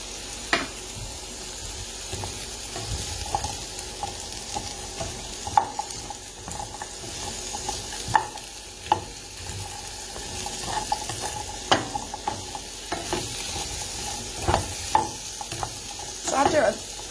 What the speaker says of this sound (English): So after the potatoes are all completely covered in oil, I kind of just stop stirring so they can get brown.